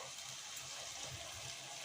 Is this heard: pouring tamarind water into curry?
yes